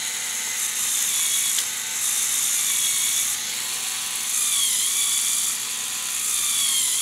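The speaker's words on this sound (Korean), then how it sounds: "토크 차이에 의한 스위치 조작." A homemade torque difference switch mechanism runs steadily with a continuous whirring, ratcheting mechanical sound, its pitch rising and falling in a few surges; no one speaks.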